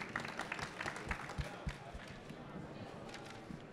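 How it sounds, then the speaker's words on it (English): Audience applause at a conference panel session, a moderate, steady patter of many hands clapping with some louder individual claps early, fading slightly toward the end. "You can applaud now"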